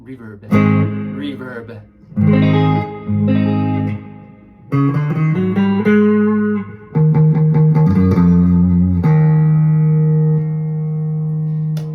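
Electric guitar notes and chords through a Fender Meteora with a '65 spring reverb unit, drenched in springy reverb, played in short phrases with a long sustained chord ringing out at the end.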